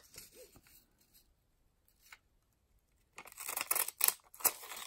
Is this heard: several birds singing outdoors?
no